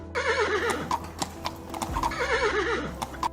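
A horse neighs twice with a wavering whinny, close and loud, over steady clip-clopping hooves and a constant low rumble, with no talk.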